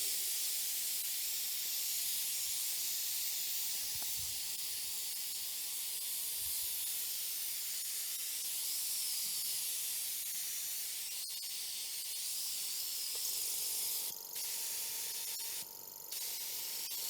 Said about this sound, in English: And I use always spray gun and compressor here.